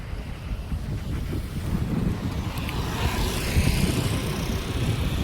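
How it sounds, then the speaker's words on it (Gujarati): Strong cold wind buffets the microphone at the Khambhaliya highway toll plaza as a continuous low rumbling roar. No speech is heard. "ઠંડો પવન છે. જોવો ઝાડવા હાલે"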